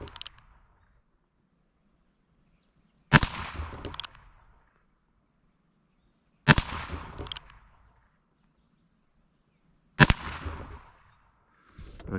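A Colt Peacemaker .22 revolver fires three single shots at a shooting range, each a sharp crack followed by a short echoing tail, spaced about three seconds apart with quiet between them.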